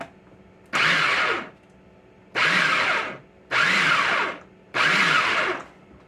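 Food processor pulsing bologna salad ingredients, four short loud whirring bursts of about a second each, separated by brief quiet gaps.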